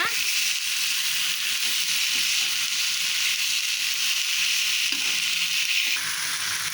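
Onion thokku fries in hot oil in a pan while being stirred, giving a steady close sizzle and hiss that runs unbroken throughout, with faint scraping under it.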